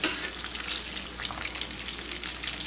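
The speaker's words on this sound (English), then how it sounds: "Basically sauteing those bananas, correct?" Bananas sautéing in a pan over slightly above medium heat, a close, continuous crackling sizzle with light stirring, no voices.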